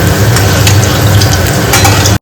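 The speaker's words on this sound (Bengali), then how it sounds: "তেলের মধ্যে ভেজে নেবো শাকটাও ভেজে নেবো" Greens frying in hot oil in a frying pan, a steady loud sizzle with faint stirring scrapes running unbroken before cutting off abruptly at the end.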